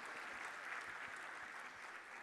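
Faint, distant audience applause at a live music show, a steady wash of clapping throughout the short span, with no voices over it.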